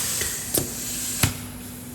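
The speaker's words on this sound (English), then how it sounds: "right now I'm just going to spray the gun" Cyclomix Evo paint-mixing spray gun under steady hiss, with two short, louder spray bursts punctuating a continuous airy background near the microphone.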